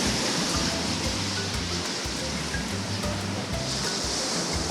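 Sea waves washing onto a littered summer beach, a steady close roar of surf with rhythmic rushes of water and no voices.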